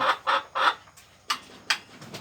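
Chickens and a rooster pecking at feed in a small backyard poultry setup, giving several short close clucks and bursts of pecking noise in an irregular rhythm.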